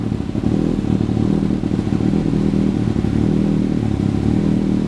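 An inline-four motorcycle engine idles steadily with a smooth, even low hum and light mechanical clatter, close and constant throughout.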